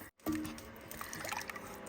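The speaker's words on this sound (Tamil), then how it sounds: "இதில் நம்ம புளி தண்ணியை ஆட் பண்ணிக்கலாம்." Tamarind water being poured into a pan for fish curry, a soft continuous splashing and trickling with a few drips, fairly quiet and close.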